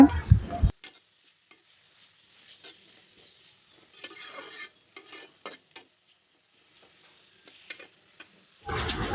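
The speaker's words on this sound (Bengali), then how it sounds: "নেড়ে চেড়ে ভালো করে মশলাটা বেজে নিতে হবে" Ground whole coconut spice paste is stirred and fried in oil in a pan, making intermittent scraping stirs with a soft sizzle between them and louder bursts at the start and end.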